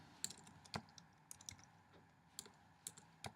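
Typing on a computer keyboard while building a mind map: irregular bursts of crisp key clicks, close and fairly quiet, with pauses between groups of keystrokes and no talking.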